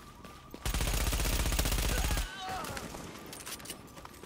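Rapid automatic gunfire rattles out in a sustained burst in Tom Clancy's The Division, followed by scattered lighter shots and combat noise.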